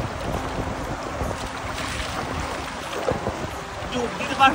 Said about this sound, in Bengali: জলের স্রোত আছে অনেক, জলের স্রোত কিন্তু অনেক